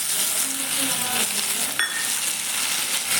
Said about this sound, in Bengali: এবার আমি ছাতুটা ঢেলে দিচ্ছি